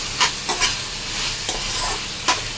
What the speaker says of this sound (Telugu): కట్ చేసి పెట్టుకున్న పచ్చిమిర్చి ఒక రెండు ఇవి కూడా వేయించుకోవాలి